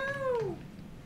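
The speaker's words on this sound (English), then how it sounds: "that was the cat." A pet cat gives a single clear meow, close and fairly loud, falling in pitch and fading out after about half a second.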